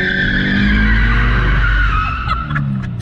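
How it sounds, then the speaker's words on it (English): A Subaru BRZ launches hard off a dumped clutch, its tires skidding and squealing loudly for about two seconds over the revving engine, then fading into softer tire chirps. "just jump off the clutch and floor it"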